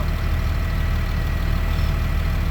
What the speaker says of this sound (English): Hopefully you can hear me over this diesel pusher.